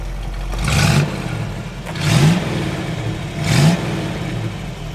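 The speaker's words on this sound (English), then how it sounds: "Let you take a listen to the exhaust." A 1962 Chevrolet Corvette V8 idles with a deep exhaust burble, then revs up three times in evenly spaced bursts, each rising and falling back to idle.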